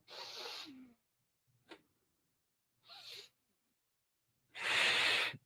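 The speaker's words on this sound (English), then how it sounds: "that sound is coming through the air moving through the nostrils." Four forceful bursts of breath rush through the nostrils in an Ashtanga yoga breathing demonstration, a long hiss, a brief sniff, a shorter puff, then a loud final exhale, separated by silence.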